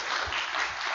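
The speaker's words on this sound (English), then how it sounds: "let's do a big old round of applause for our panelists and our moderator" A crowd at a church event in Long Beach, California, applauds its panelists and moderator: a brief, steady roar of many hands clapping together, with no voices on top.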